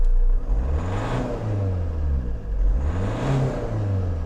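An Opel Insignia diesel engine revs up twice, each rise climbing in pitch then falling back to a low, rumbling idle, close by.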